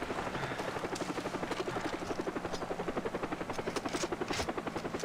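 Helicopter in the video game Far Cry 3, a steady rapid rotor chop pulsing evenly throughout, fairly quiet and unbroken.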